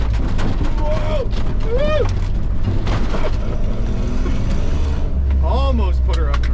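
A Nissan truck driving on a slippery road, steady engine and road rumble throughout, with a person's excited voice breaking in over it several times.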